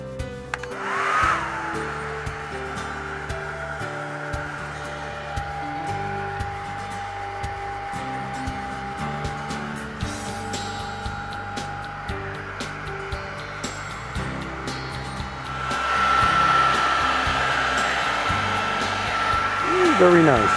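A hair dryer blows steadily to dry weathering paint on a model NYC J-1e Hudson steam locomotive, a continuous close whooshing drone with a whistling tone that shifts and grows louder toward the end.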